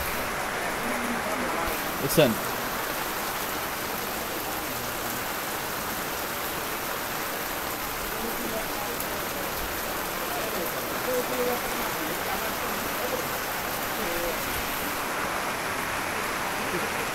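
Heavy rain pours down in a steady, dense hiss that fills the space without pause, with a brief voice heard once near the start.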